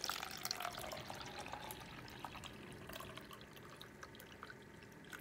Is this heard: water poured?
yes